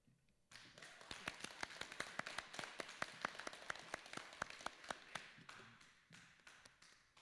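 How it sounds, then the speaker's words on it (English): Audience applause at a county board of commissioners meeting, many hands clapping steadily with sharp individual claps standing out, moderately loud and sustained, fading toward the end. "Keep applauding."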